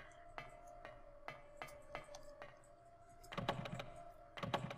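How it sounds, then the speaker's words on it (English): Someone types on a laptop keyboard in short bursts of crisp clicks, with a faint steady hum underneath and a quicker cluster of keystrokes near the end. "Can you hear him typing on the laptop?"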